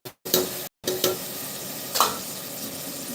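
Tomato and coconut milk sauté in a pan for mutton curry, making a close, steady sizzle with a few short stirring scrapes and brief pauses, and no talking.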